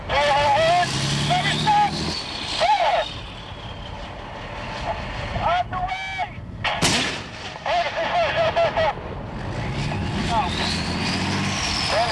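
A tank's main gun fires during a crew gunnery exercise, with one sharp loud blast standing out over the idling engine, and crew voices calling out commands around it.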